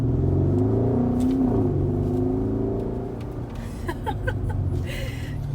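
A 2017 Mercedes-AMG GLE63 SUV engine revs up and accelerates with a deep, throaty exhaust roar that fades somewhat as it pulls away.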